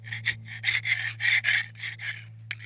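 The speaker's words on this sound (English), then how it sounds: "So I brought me a scraper, and I'm going to gently work on" A scraper rasps mold off a stone cemetery headstone in short, repeated strokes, each a close, gritty scrape with a brief pause between, over a low steady hum.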